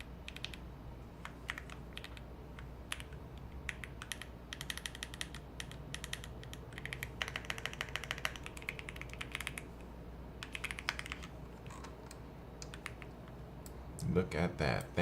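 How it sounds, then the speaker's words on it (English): Clacky keystrokes on a computer keyboard during a live coding session, quick irregular bursts of crisp taps close by, continuing throughout with brief pauses, ending with a few louder thumps. "The keyboard sounds nice, very clacky."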